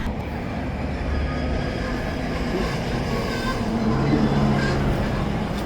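A freight train rolls past on a Monday afternoon, a steady, dense low rumble of wheels and cars holding constant and close throughout, with no clear talk over it.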